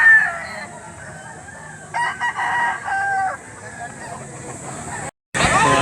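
Roosters and stags crowing and clucking at a livestock auction market in Lipa, loud and close, with bursts of crowd noise and a brief cut near the end.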